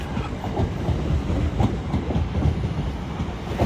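A train passes through Doncaster station on the East Coast Main Line with a steady rumbling roll and faint rhythmic clickety-clack of wheels over rail joints, continuous and fairly close throughout.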